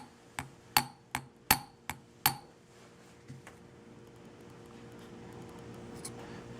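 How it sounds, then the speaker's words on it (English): A metal flat punch taps on the balance wheel of an Elgin railroad pocket watch during repair, giving six sharp, bright ticks in quick succession near the mic, followed by a faint tap and quiet room hiss. "I'll take my flat punch and I'll simply tap a couple of times to make sure it's on there real good"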